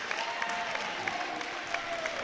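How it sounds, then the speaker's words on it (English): Dragon fans in a high school boys' basketball gym give a steady, dense round of applause near the end of a lopsided game, with crowd murmur mixed in and no clear talk over it. "a nice round of applause here by the Dragon fans"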